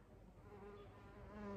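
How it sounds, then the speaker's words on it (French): A bumblebee buzzes in a brief, steady, fairly quiet drone close by, the hum holding even and swelling slightly at the end. "Oh, c'est un bourdon."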